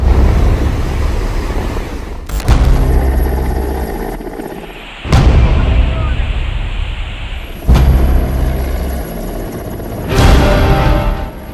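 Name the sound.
Air Force Mi-17 helicopter during flood rescue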